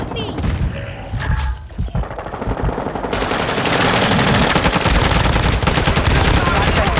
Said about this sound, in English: Don't shoot at me, Bessie!